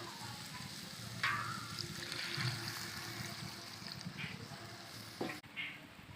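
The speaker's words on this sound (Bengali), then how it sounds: "এবার পরিমাণ মতো জল দিয়ে দেবো" Water goes into a pan of sizzling potatoes and spices for aloo posto. A soft, steady frying hiss continues while a faint trickle, a few light clinks and a brief scrape sound nearby.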